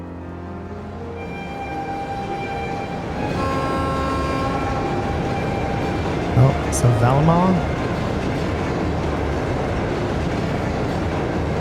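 A train in the video game Trails of Cold Steel II rumbles along steadily in a dense, continuous drone with faint rhythmic rail clatter, while a voice briefly speaks over it.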